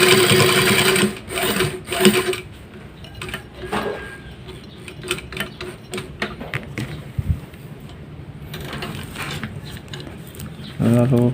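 A sewing machine runs in stuttering bursts while stitching a pair of shorts with side pockets, close rapid needle clatter starting and stopping, with brief talk in the room.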